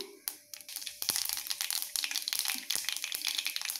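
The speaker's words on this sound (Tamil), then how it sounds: "எண்ணெய் நல்லா காஞ்சதும் கடுகு, கொஞ்சமாக வெந்தயம் சேர்த்திடுறேன்." Mustard seeds and a little fenugreek splutter in hot oil while tempering an Andhra-style brinjal curry, giving dense, close crackling pops that run steadily throughout.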